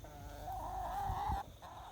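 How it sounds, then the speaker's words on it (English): Hens clucking in an overgrown grassy apple orchard, a single drawn-out, quiet, wavering call from a bird close by, with faint outdoor background noise and no talking. "We also have chickens in the orchard."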